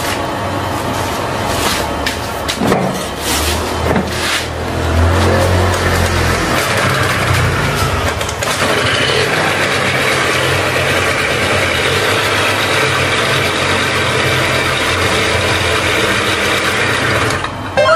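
A choke-equipped scooter engine starts up and settles into a steady idle, with a continuous low mechanical drone running loud and unbroken after a brief rougher burst at the start.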